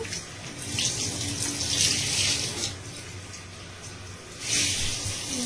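Lukewarm tap water runs in a steady, close, broadband rush while hair is being rinsed, with the flow swelling briefly near the end.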